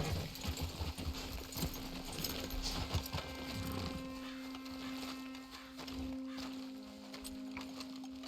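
Rhythmic clip-clop of horse hooves in Red Dead Redemption 2, steady and moderately loud at first, then fading as a low hum and other game sounds continue.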